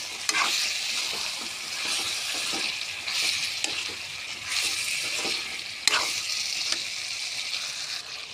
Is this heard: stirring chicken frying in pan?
yes